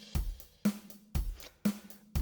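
A basic drum machine beat loops steadily: deep kicks alternating with sharp snare-like hits with a tonal ring, repeating at an even, moderate tempo with no voices.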